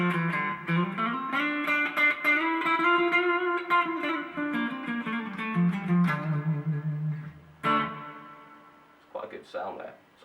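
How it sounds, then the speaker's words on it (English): A Silvertone Paul Stanley Apocalypse electric guitar played on the front pickup through an amp with reverb, a close, clean Spanish-style melodic phrase with ringing notes and decaying reverb tails. "Quite a good sound there, sort of Spanishy guitar thing that I'm playing here."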